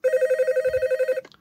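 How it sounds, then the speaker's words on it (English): An old telephone fitted with a digital ringer, driven by a 555 timer circuit, trills in a rapid steady electronic pulse for about a second before cutting off, close and loud. "The phone rings."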